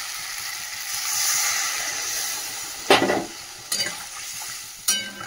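Water poured into a hot pan of okra and potato curry with ground poppy seed and mustard paste, giving a steady close sizzle and hiss, then three short sharp bursts of spluttering near the end.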